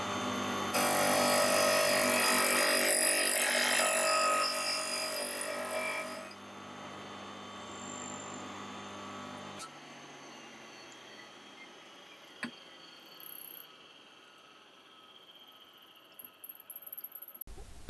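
A homemade 80 grit linishing disc sands and squares off a workpiece, giving a loud, steady grinding whir for about six seconds that then drops to a faint hum and fades away.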